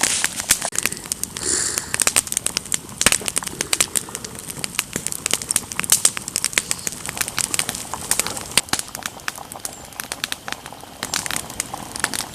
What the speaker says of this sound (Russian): Как хорошо костер горит у нас.